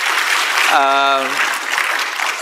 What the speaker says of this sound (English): I think Prime Minister deserves an applause for that.